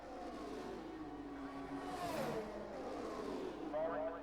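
Ferrari race car engine in a sim racing game on a Grand Prix street circuit, a steady high-pitched whine that rises and shifts with gear changes, running continuously under commentators talking.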